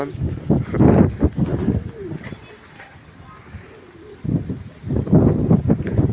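A young pigeon gives a few thin, high peeps amid soft cooing, with a person speaking nearby and light wind noise.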